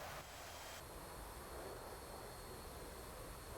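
A Spitfire flying in a flight combat sim, its engine a faint, steady, even drone throughout with no voices.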